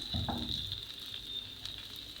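Peppers fry in a pan, giving a steady hiss of sizzling with a few stirring clatters near the start.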